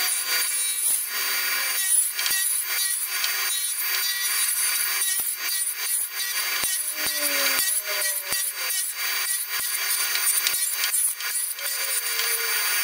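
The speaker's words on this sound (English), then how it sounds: "So I will cut this out on the radial arm saw." Timber being cut on a radial arm saw, a loud, continuous bright rasping drone near the listener, broken by repeated sharp ticks and brief shifts as the blade works through the wood.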